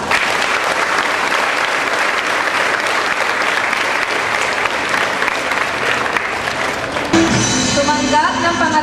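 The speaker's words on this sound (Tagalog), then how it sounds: "Pasalubungan po sila ng malakas na palakpak." Audience applause at a school awards ceremony, sustained loud clapping from a large crowd for about seven seconds before it cuts to a speaker's amplified voice.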